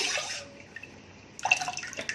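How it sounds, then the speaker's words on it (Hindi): Water pours into a cooking pot of besan kadhi, a short splashing rush at the start that fades, then resumes with trickling and dripping for the last second. "इसमें अब पानी डाल रही हूँ।"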